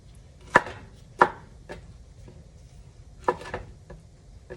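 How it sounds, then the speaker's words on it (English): A knife chopping pineapple pieces on a board: several sharp, close cuts at an uneven pace, three loud thuds among softer taps, with quiet pauses between them. "Now we're gonna cut it."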